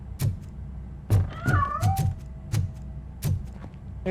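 Cat in RoboCop: Rogue City meowing a few times in short, clear, rising mews between soft footstep thumps, close by with no talk.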